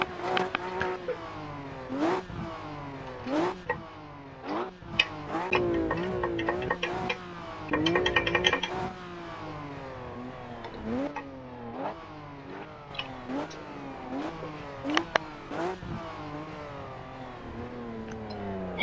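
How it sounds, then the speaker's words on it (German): A Porsche 911 Carrera S engine in the Assetto Corsa racing game revs repeatedly in sharp bursts, pitch sweeping up and dropping back with each throttle blip, interspersed with quieter idle and clicking between revs. "der Porsche 911 Carrera S aus dem ersten Porsche Pack. Und da sehen wir ihn auch schon, Leute. Sieht sehr cool aus. Und ja, wir hören mal rein in den Sound."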